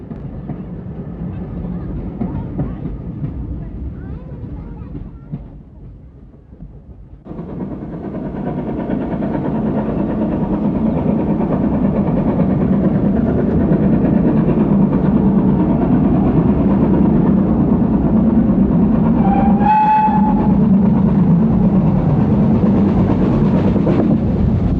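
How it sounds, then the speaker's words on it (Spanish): Two steam locomotives running double-headed on the Southern network, a loud continuous rumble and chuffing that swells after a quieter start and holds steady, with one brief whistle-like tone near the end. "La imagen y el sonido de locomotoras en doble"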